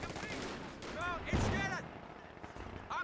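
Guns fire in a strategy video game, a few muffled shots and thumps, one heavier blast near the middle, scattered under a commentator's talk at low volume.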